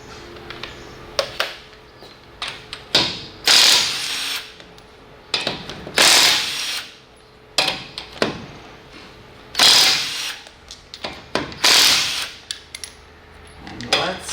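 Lug nuts come off a Toyota Tacoma wheel with a normal socket, heard as bursts of power-tool whirring and ratcheting clicks, several short runs with pauses between them, close and fairly loud.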